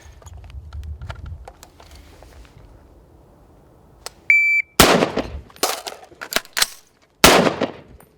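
Sharp rifle shots on a range during a speed reload drill, preceded by faint handling and a brief beep, then four or five loud, close reports spaced irregularly over a few seconds.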